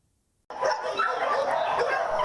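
Many dogs bark and yip together at a crowded shelter in Shenzhen that houses rescued street dogs, a dense, steady chorus that starts suddenly after a short silence and keeps going.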